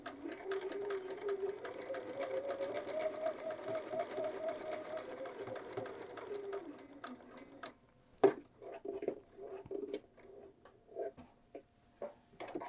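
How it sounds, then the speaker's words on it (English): A sewing machine with a regular 1/4 inch foot stitches along the top edge of a pocket, running with a steady mechanical whir for several seconds, then stopping for a series of soft clicks and taps, quiet and close. "So you're just going to start stitching along that top edge."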